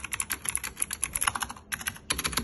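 Fast typing on a Razer BlackWidow mini mechanical keyboard, a rapid close run of crisp clacking keystrokes with one brief pause before the clatter resumes.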